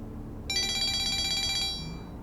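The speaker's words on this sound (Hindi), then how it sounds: "दुआ का फोन है।" A telephone rings with a bright electronic trill. One sustained burst is heard close and clear over a low background hum, with no talking.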